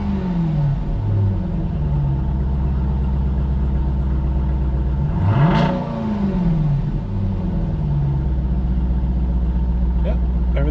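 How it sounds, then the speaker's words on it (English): A Dodge Durango SRT fitted with a ported 87 mm throttle body idles with a low steady drone, then swells into one quick rev and settles back to idle. "Give it a couple revs."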